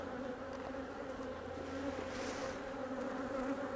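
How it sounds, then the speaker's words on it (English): Honeybees in an opened hive during a queen introduction give off a steady, close, dense buzzing hum, continuous and fairly loud, with no talk. "They're old bees and they're grumpy bees."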